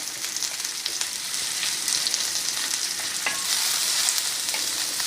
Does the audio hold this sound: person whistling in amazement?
no